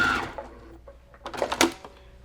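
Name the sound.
sewing machine stitching a cross stitch pillow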